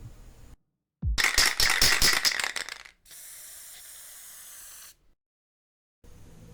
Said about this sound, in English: it's time to give it a spray undercoat.